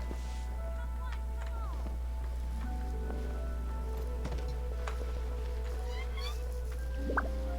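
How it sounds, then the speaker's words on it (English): A cat in Genshin Impact gives a few short, faint meows over a steady low hum and soft rain-like patter, with a voice speaking throughout. "There's a cat over here"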